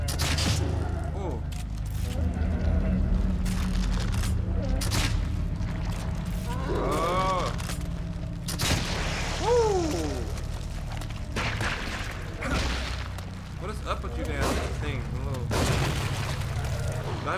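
Grenade explosions from The Evil Within, a survival horror video game, come as several deep booms amid gunfire and game effects, with a player talking and exclaiming over much of it.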